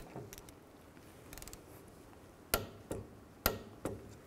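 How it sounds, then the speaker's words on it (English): Torque wrench tightening a brake caliper banjo bolt on a 2000-06 GMC Yukon: soft ratcheting ticks early on, then four sharp metallic clicks spaced about half a second apart, close and clear in a quiet shop. "we're going to torque this banjo bolt to 30 foot-pounds."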